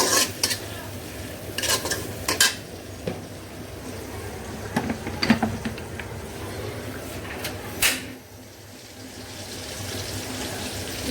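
Onions fry with turmeric in a home kitchen pan under a steady soft sizzle, broken by several sharp scraping stirs and utensil clinks, the frying hiss thinning slightly near the end.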